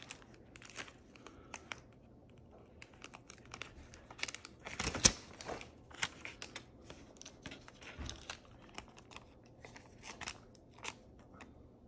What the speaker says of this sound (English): I can go ahead and kind of cut my patch material out.